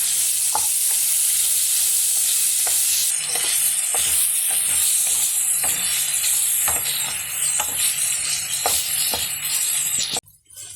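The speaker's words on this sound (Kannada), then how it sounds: "ಇವಾಗ ನೋಡಿ, ಚೆನ್ನಾಗಿ ಪನ್ನೀರ್ ಫ್ರೈ ಆಗೈತೆ." Marinated paneer frying in oil, a bright continuous sizzle with regular spatula taps and scrapes against the pan, close and loud, ending in a sudden cut.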